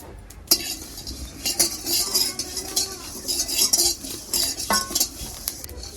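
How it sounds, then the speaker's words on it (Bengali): Fennel seeds are dry-roasted in a pan, stirred with a metal spoon that scrapes and clinks against the pan in irregular bursts, close and fairly clear over a light rustle of seeds. "এখন ভেজে নিব মিষ্টি জিরে"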